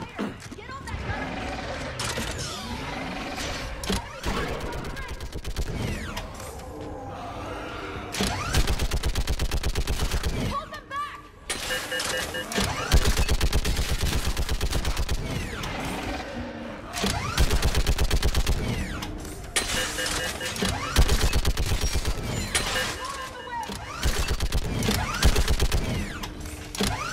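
A mounted gun turret fires in sustained bursts in the video game Mass Effect 3, loud and dense with mechanical clatter and shifting battle noise, while voices speak at points throughout.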